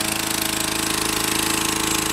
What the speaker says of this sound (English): The lawnmower is not quite big enough to get it on the low setting